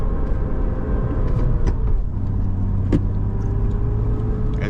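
A BMW E36 convertible drives along snowy, partly unplowed back roads, its engine a steady close rumble in the cabin with small shifts in pitch and no talking.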